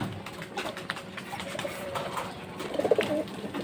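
Giribaz high-flying pigeons coo softly in a short burst of throaty calls near the end, heard over a steady low background hum.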